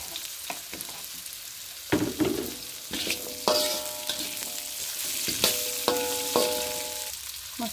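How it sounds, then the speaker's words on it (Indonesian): Carrots sautéing in a pan with shallots and chili, a steady close sizzle broken by repeated scraping stir strokes and spatula clinks against the pan, with no talking. "Tumis wortel."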